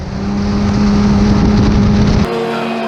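Formula 4 race cars at Silverstone, engines screaming loud and steady as they slipstream past, then the sound cuts abruptly to a thinner, quieter engine note.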